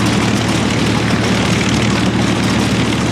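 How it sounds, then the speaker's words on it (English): A propeller-driven carrier aircraft of the Second World War drones loudly and steadily, a dense continuous engine roar with no pauses. "aircraft flying from carriers"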